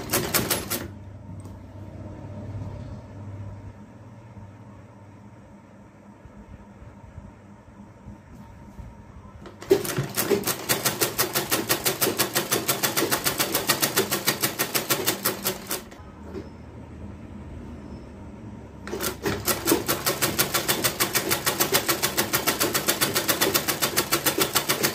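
A sewing machine stitches a shirt sleeve in rapid, loud bursts of mechanical clatter, two long runs separated by quiet pauses with faint background noise.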